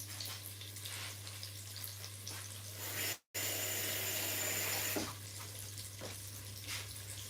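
Tap water runs steadily and softly into a kitchen sink while butter beans are rinsed, a continuous hiss with a brief break partway through and a low electrical hum beneath.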